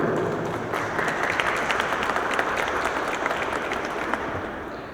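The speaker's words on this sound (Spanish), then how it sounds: "le damos la bienvenida con un fuerte aplauso" An audience gives a steady round of applause to welcome a speaker at a Spanish-language talk on personal data protection, dense clapping that holds at an even level throughout and eases off slightly at the end, with no voices over it.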